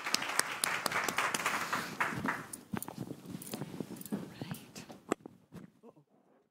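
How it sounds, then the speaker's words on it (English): Audience applause for panelists at a health care event, sustained clapping from a modest crowd that thins out and tapers to a few scattered claps before fading to quiet. "A big round of applause for our panelists."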